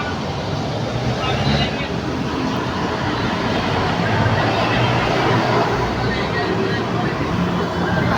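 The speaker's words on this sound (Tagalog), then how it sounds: "Highway lang to, highway." Steady, loud rumble of passing highway traffic fills the whole stretch, a continuous broadband roar with no clear gaps, and a voice seems to talk faintly beneath it.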